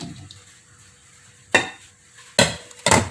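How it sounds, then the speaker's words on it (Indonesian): Boiled jengkol beans drop into a cooking pot for gulai with chicken feet: three sharp, close clattering bursts of beans and utensil against the pot after a quiet pause. "Selanjutnya kita masukkan juga ini jengkol yang sudah direbus"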